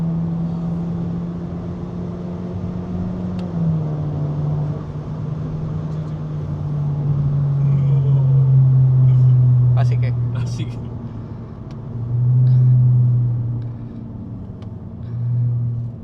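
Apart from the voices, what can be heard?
car engine revving, VTEC engaging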